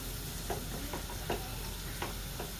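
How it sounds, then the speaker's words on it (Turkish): Quiet, steady sizzling of semolina frying in a pan for helva, with occasional soft scrapes and clinks of stirring. "pembeleşene kadar kızartacağım"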